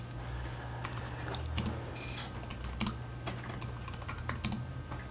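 Someone types on a computer keyboard, entering a quote: close, fast, irregular key clicks continue throughout over a low background hum.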